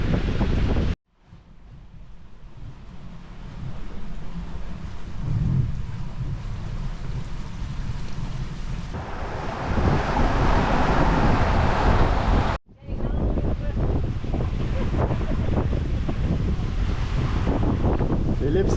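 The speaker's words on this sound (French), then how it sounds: "du vent dans les 30 nœuds" Strong wind of around 30 knots, gusting toward 39, roaring across a sailboat under autopilot on open water, a loud, steady rush with microphone buffeting, a brief cut near the middle, then continuing just as strong.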